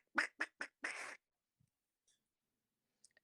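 A person imitating goose honks: four short, loud nasal quacking calls in quick succession, the last one drawn out, then near silence with a couple of faint clicks.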